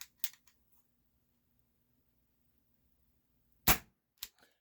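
Sharp pops from a Gamo PT-80 CO2 air pistol running low on gas: a couple of quick cracks at the start, a long quiet gap, then a loud close shot followed by a smaller snap.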